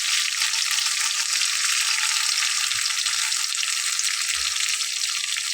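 Masoor lentils are spooned little by little into a hot frying pan, raising a loud, steady sizzle and crackle of frying throughout, with a few faint low knocks of the spoon and no talk.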